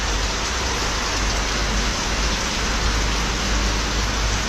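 Heavy, steady rain pouring down, a dense unbroken roar with no pauses.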